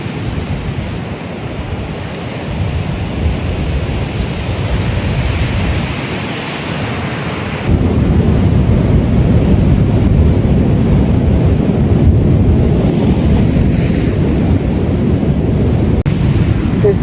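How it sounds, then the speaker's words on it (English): Steady broadband roar of surf and wind at a beach, continuous and loud throughout, growing fuller partway through with no distinct individual breakers. "and now I'm at the beach."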